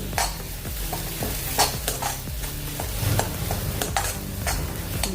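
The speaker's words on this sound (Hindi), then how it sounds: "तो अभी हम थोड़ा सा ही इसको भूनेंगे।" Lotus stem pieces and spices sautéing in oil, a loud close sizzle broken by repeated rhythmic scrapes and knocks of a spoon stirring in the pan, steady throughout with no voices.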